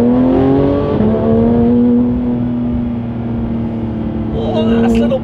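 A Porsche GT3 engine pulls hard under acceleration from inside the car, rising harmonics sweeping steadily upward and staying loud throughout, with a brief higher whine near the end.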